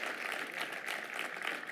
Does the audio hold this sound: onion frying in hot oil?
no